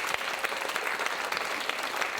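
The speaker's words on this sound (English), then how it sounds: "give them a round of applause" A theatre audience gives a round of applause. Dense, even clapping from many hands carries loudly for the whole moment and stays steady from start to finish.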